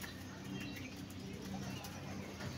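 Large pigeons flutter their wings as they are lifted out, in faint, quick flapping bursts mixed with soft coos, while someone talks nearby.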